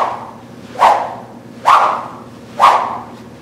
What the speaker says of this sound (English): you want to hear the whip on both sides